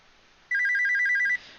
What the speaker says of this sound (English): Oh, my head's ringing again. That's gotta be Peter, right?